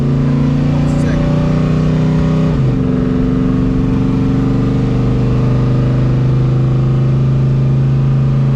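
A V8 engine in a Chevrolet S10 truck drones loud and steady from inside the cab, its pitch dropping sharply at a gear shift partway through, then settling into a smooth, even hum.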